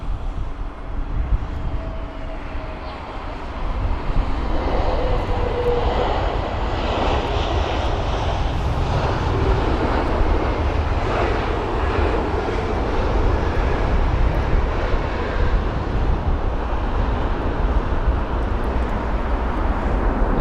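A British Airways A320neo, flight BA661 from Chania, lands at London Heathrow on a windy day, its engines a steady broadband roar holding close and loud throughout, with no speech.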